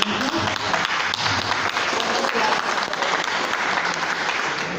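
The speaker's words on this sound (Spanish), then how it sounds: "Les pido un fuerte aplauso." Loud, sustained applause from an audience at an academic conference on governance in higher education, with many hands clapping densely and evenly, close and full throughout.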